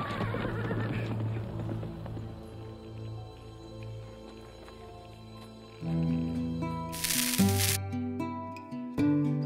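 A horse whinnies in a Western film scene, a loud neighing cry over dramatic orchestral music that swells and shifts partway through.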